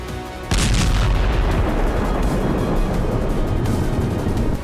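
A guided bomb explodes after penetrating a concrete bunker: a sudden loud boom followed by a long, dense rumbling roar that holds to the end.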